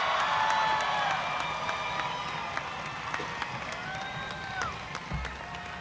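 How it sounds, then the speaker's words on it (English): A stadium crowd applauds and cheers for the graduating class of 2022 at the Hart County High School commencement, a distant, diffuse roar with scattered whoops and whistles that gradually tapers off. "let's hear one more loud and thunderous round of applause for the class of"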